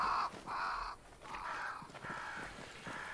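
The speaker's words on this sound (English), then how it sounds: "Like, see, those sound like crows." Crows caw in the Banishers: Ghosts of New Eden video game, a series of harsh, fairly loud calls repeating in a steady rhythm over a faint ambient background.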